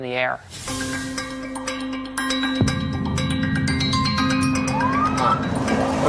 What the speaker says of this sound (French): Mais il y a plein de voitures de police avec les sirènes allumées.